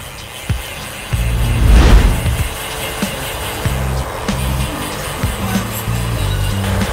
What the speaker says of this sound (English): complete with whoosh sound effects